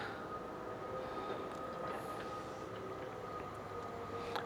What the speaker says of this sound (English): This one is a slower one. This is the regional train.